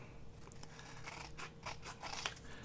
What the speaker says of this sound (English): I'm going to trim that off and then I'm going to cut it in half.